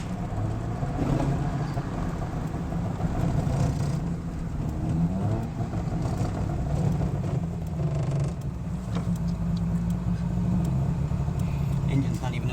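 Saab 95 engine idling and running before reaching operating temperature, a continuous mechanical rumble with creaks and whirring, while a person speaks over it throughout.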